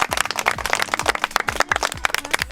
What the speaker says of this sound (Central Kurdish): یەک چەپڵە بۆ خۆتان